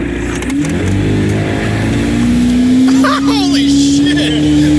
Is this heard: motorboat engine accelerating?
yes